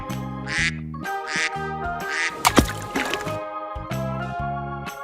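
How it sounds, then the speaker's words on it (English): A duck quacks in repeated harsh bursts, close and fairly loud, with splashing water noise in the middle and a steady low drone underneath. "Duck."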